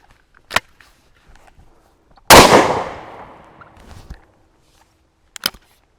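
A single loud shotgun blast from a Baikal MP-18 at an outdoor range cracks sharply and then decays into a long rumbling tail, with faint clicks and handling noise just before and after it.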